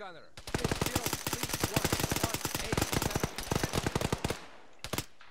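Rapid bursts of automatic gunfire from the video game Antistasi rattle out loud and close in a dense, steady stream, pausing briefly near the end before a final short volley, with muffled talk faintly underneath.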